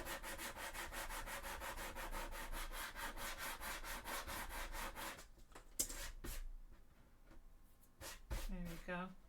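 Fine and super-fine sandpaper rubbed back and forth over the seams of cosplay armour, a steady rapid scraping rhythm for several seconds, then scattered handling noises and a brief voice at the end.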